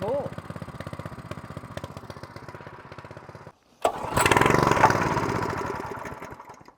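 A small gas engine chugs unevenly and close, cuts out briefly, then catches after one pull and settles into a loud, steady running drone that fades near the end, with a voice heard beneath it.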